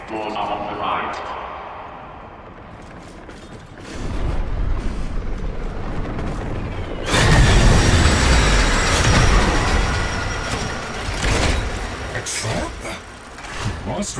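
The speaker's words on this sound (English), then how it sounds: "The next train is arriving." A train arriving in the video game Warframe: a low rumble builds into a loud rolling surge of rail noise with screeching wheels, while voices talk over it throughout.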